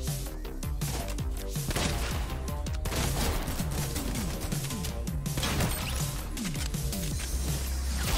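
Rapid bursts of gunfire from the Fortnite video game in the Heavy Metal limited-time mode, with dense repeated shots and impacts crackling over a continuous loud backdrop of game sound.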